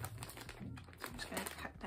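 A plastic yarn subscription bag is cut open up close, giving a short burst of crisp crinkling and rustling with light snipping clicks.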